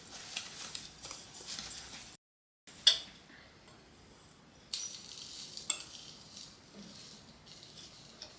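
A spoon stirring a dry rub of spices, brown sugar and flour in a bowl, soft gritty scraping strokes close by, broken by a brief pause and occasional light clinks.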